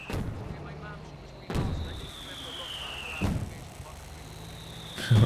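Rocket artillery in the strategy video game Company of Heroes 2, with sharp booming impacts roughly every one to two seconds, a rising whistle of incoming rockets between them, and faint background game noise.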